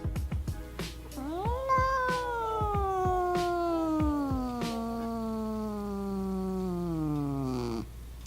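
A pet cat lets out one very long, drawn-out meow that slowly falls in pitch over several seconds, close and loud, after a few soft clicks, with no speech over it.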